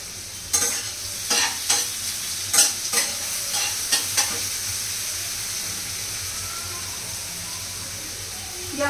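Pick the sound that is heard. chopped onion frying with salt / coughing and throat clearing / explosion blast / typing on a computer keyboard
chopped onion frying with salt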